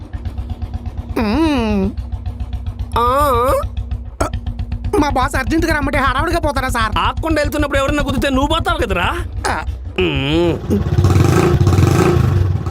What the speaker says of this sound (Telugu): ఆ సైలెన్సర్ సౌండ్ ఏందిరా?